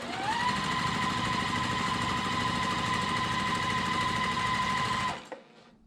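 A sewing machine stitches quilt block pieces in a fast, even mechanical whir that runs loud and steady before stopping abruptly near the end.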